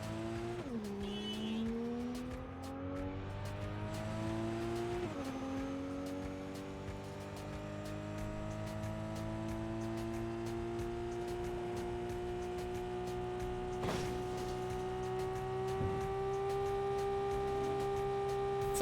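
A car engine in the video game Cyberpunk 2077 revving and shifting through gears, pitch repeatedly climbing then dropping, with a tire squeal and a steady hum, no talking.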